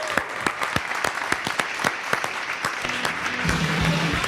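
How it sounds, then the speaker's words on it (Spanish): An audience claps for the band Los Bengala from Zaragoza. The applause is dense and steady with sharp individual claps, and a faint voice rises near the end. "pido un fuerte aplauso para los Bengala"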